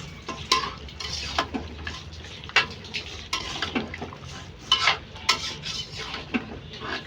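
Onion, green chili, ginger paste and garlic paste being mixed into a masala in a wok, with repeated close scrapes and clinks of a metal spoon and a faint sizzle underneath.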